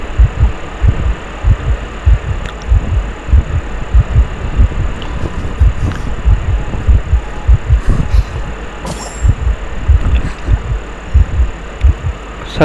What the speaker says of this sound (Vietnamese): Sao nghe tim đập đâu đây mà không thấy ai hết